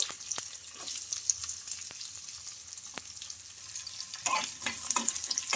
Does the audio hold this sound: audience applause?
no